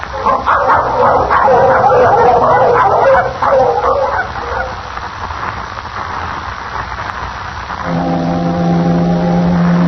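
Sled dogs bark and yip loudly together for several seconds in an Arctic setting, then fade, followed by a long, low foghorn blast.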